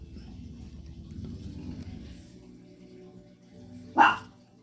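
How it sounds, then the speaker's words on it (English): A single sharp dog bark rings out near the end, after several seconds of low background rumble. "You too, baby, stop. No barking."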